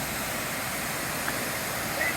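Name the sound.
hidden waterfall in a forest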